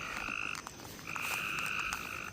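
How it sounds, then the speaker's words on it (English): Frogs croak near a puddle in an outdoor town setting, giving two faint, sustained trilling calls separated by a short pause, with no talk. "the frogs are loud here"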